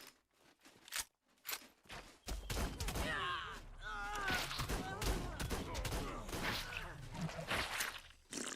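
Pistol gunfire in Ark Survival Ascended, a string of sharp game shots with impact and action effects layered over dense, loud game sound, with a person talking throughout.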